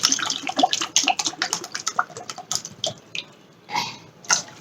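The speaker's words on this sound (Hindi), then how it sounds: "पाँच गिलास पानी डल चुका है" Water poured from a glass into a cooking pot while making rasgulla, a sustained gurgling, bubbly splash that trails off into a few brief splashes near the end.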